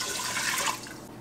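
Water pours steadily into a pot of rice along with lime zest and juice, a continuous close splashing rush that tapers off near the end.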